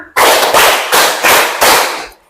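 A classroom group claps together five times in a steady rhythm, each burst loud and crisp before the sound stops.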